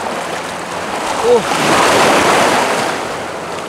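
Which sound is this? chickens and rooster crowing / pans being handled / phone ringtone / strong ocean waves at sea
strong ocean waves at sea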